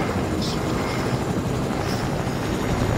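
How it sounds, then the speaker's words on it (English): A helicopter in the video game Fortnite: a loud, steady rotor roar fills the whole stretch with no break, close and dominant, with no voices over it. "Freaking chopper."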